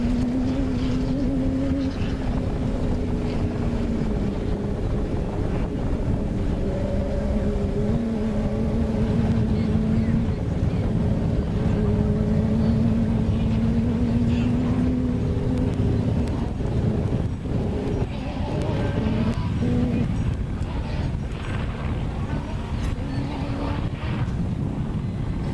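An off-road race vehicle competing in the NORRA 500 2025 roars continuously nearby, its engine drone shifting gradually in pitch over a long stretch with wind noise and no talking.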